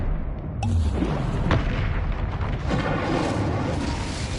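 Incendio fire spell from Hogwarts Legacy bursts out as a loud, booming blast followed by a sustained roaring rush of flame, with no talking.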